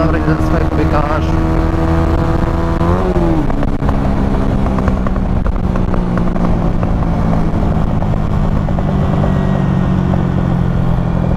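A Honda motorcycle engine drones steadily and loudly while riding, with pitch shifts as it changes speed, and a voice speaks over the constant engine and wind noise.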